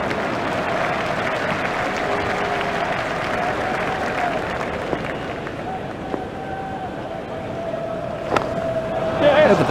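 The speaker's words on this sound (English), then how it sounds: "The crowd were brought to their feet by that shot." A cricket stadium crowd roars and applauds a batting shot in a T20 match between India and South Africa, a steady broad wash of cheering lasting throughout, with commentary voices over it.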